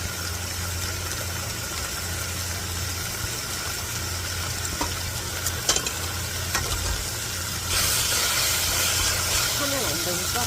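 Kimchi stir-frying in a pot over high heat for a tofu kimchi stew, with a steady sizzle, occasional scraping clicks of a utensil, and a hiss that swells louder partway through.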